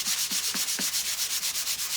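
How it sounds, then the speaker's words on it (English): A sanding sponge is rubbed back and forth over painted wood in quick, even strokes, giving a close, rhythmic scratchy swish about four times a second. "So we want to get our little sanding sponge"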